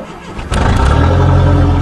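A Dodge Aries turbo wagon race car fires up from cold after sitting a while. Quiet at first, the engine catches abruptly and settles into a loud, steady, rough idle close by.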